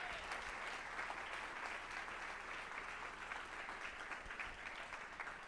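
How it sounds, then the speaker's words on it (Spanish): A church congregation applauds during a Spanish-language sermon, sustained, even clapping from a crowd heard from a distance at low level, with no talking over it. "¿Le puede dar un aplauso al Señor?"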